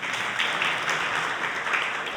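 An audience at a Jain religious discourse claps steadily as a dense, continuous wash of applause filling the hall, with no pause and no voices clearly audible.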